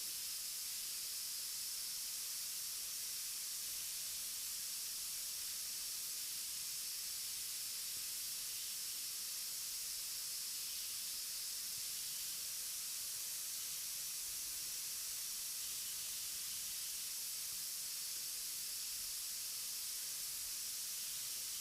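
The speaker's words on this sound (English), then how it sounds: "Watching a room fill up with steam" Steam hisses steadily into a library vault room as it fills, a broad constant rushing hiss with no voices.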